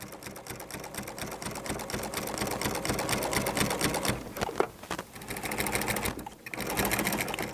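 A sewing machine stitches binding onto a quilt with a rapid, close, rhythmic chatter, pausing briefly twice before resuming.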